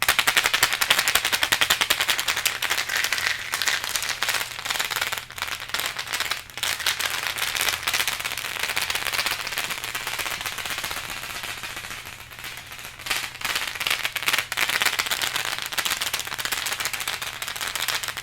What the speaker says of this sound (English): I'm going to be using a makeshift shaker and just making some noise, rattling noises around the microphones